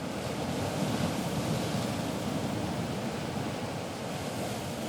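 Ocean waves offshore, a few nautical miles out near floating lobster cages, roll in a steady, dense wash of surf with some wind rumble, continuous and loud with no voices.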